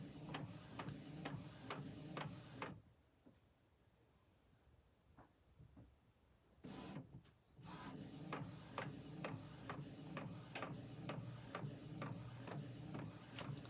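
A converted Epson WF-2830 sublimation printer running a print job, with rhythmic mechanical clicks and whirring carriage passes, a quieter pause in the middle, then steady printing again, close and clear.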